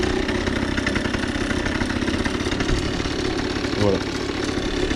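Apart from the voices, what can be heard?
booster scooter engine idling cold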